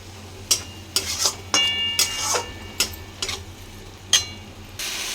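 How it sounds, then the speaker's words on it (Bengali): Ginger, garlic and onion spice paste is stirred in a frying pan, with sharp spatula scrapes and knocks at irregular intervals over a low, steady sizzle, close and fairly loud, with no talking. "দেখো মশলাটা দিয়ে এবার ভালো করে নাড়িয়ে নিতে হবে।"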